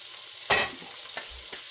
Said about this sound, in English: I'm going to throw straight in with my garlic.